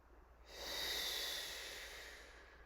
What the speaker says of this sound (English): And let's take those 4 deep breaths.